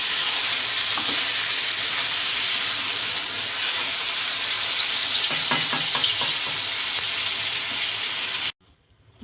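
Chicken frying in a pan with garlic-ginger paste and onions for a spicy biryani. A loud, steady sizzle and hiss runs throughout, with occasional stirring clicks, then drops away abruptly near the end.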